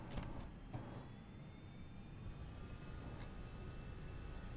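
FSLabs A320 engines spooling on a takeoff roll in a flight simulator, a steady low jet roar with a faint rising whine, constant and moderately loud throughout.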